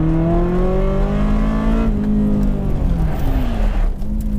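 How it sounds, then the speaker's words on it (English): A Ferrari's engine drones loudly up close, its pitch sliding down as the car slows under hard braking in second gear, with a brief scuffing noise near the end. "let's try to slam the foot on the brakes one more time"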